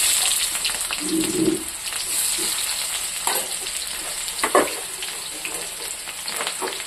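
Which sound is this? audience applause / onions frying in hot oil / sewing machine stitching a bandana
onions frying in hot oil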